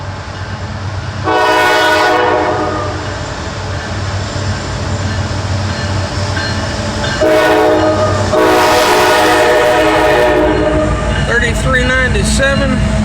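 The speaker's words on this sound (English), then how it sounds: "Another loaded coal train." A loaded CSX coal train rumbles steadily past nearby in downtown McKeesport, with loud blasts of its horn sounding several times over the continuous roll of wagons.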